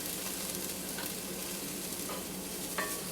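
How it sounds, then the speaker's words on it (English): Minced garlic sautéing in a pan at low heat, a steady, even sizzle heard up close with a couple of faint utensil ticks and no voices. "we just cook the garlic a little, saute the garlic very little"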